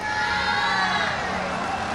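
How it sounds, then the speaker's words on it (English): A large arena crowd at the 2023 University Games men's vault final cheers and roars steadily in support of a popular gymnast, a dense, continuous wash of voices. "Listen to the crowd, they are absolutely behind him."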